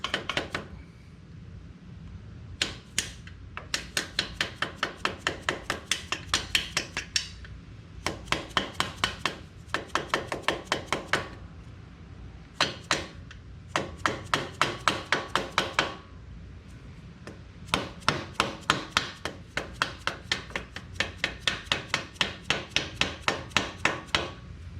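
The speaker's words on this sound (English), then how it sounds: "then the small blow hammer, and that'll install it and seal it." A small blow hammer taps a bearing into place on a Ultima 6-speed transmission fitted to a 2003 Harley-Davidson Road King, striking in rapid, ringing metallic bursts of many close blows with brief pauses between them.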